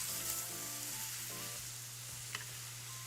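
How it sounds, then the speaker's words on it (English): Food sizzles in a hot frying pan on a home stove for breakfast-for-dinner cooking, a steady close crackle and hiss with a low hum underneath and a few faint clinks. "frying."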